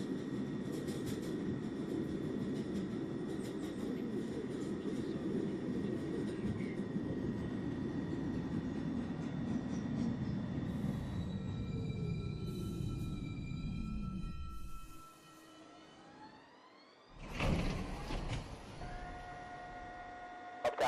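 An R62 local train on the uptown 1 line of the NYC subway rumbles loudly and steadily at speed, then slows and quiets to a near stop. Bright electronic tones ring out afterward.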